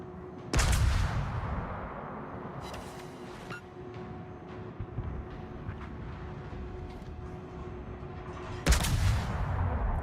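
Naval ship guns firing in World of Warships: two heavy, loud cannon blasts several seconds apart, each with a booming rumble, over a steady low engine drone and scattered distant thuds.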